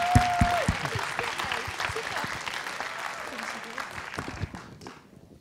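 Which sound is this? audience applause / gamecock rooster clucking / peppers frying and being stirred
audience applause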